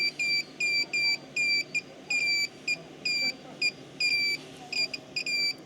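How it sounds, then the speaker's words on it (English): Repeated high electronic beeps, some short and some held longer, sound in an uneven rhythm over a constant droning hum from a DIY 18V Makita battery inverter generator under load. "I don't know if it is beeping because of the battery or beeping because it's drawing too much power"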